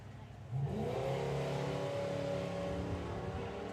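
A Fox Body Mustang and a Mazda MX-5 launch in a drag race, engines rising sharply from idle into a loud, sustained high-revving roar that climbs steadily in pitch as they accelerate away.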